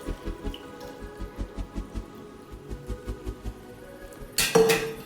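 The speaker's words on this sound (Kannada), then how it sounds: "1 ಲೀಟ್ರಷ್ಟು ನೀರು ಹಾಕೋತಾ ಇದ್ದೀನಿ." About a litre of water is poured into a pressure cooker pot of greens and lentils, with soft rhythmic glugging pulses and then a brief louder splashing rush at the end.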